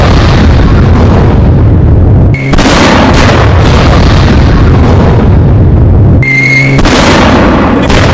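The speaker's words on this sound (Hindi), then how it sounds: "ये धमाका इतना भीषण था।" An Israeli strike on Iran explodes in news footage, heavy booming blasts and roaring rumble filling the clip at very loud, clipped levels, broken by two brief tonal cuts, with no talking.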